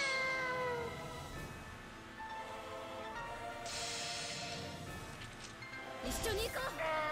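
Cats meow repeatedly in the video game Nights of Azure, a series of tonal calls over game music and effects, with a brief louder burst near the end.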